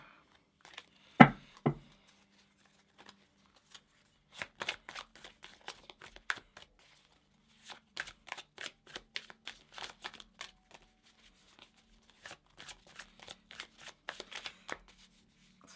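Tarot cards are shuffled by hand in close, quiet bursts of rapid riffling and clicking, with one sharp slap near the start and short pauses between shuffles.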